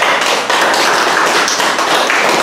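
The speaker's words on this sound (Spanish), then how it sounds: "Gracias por este aplauso que me le dan a este hombre" Sustained, dense applause from a live audience at a personal tribute event where a first book is being presented, loud and close, steady clapping throughout with no talk over it.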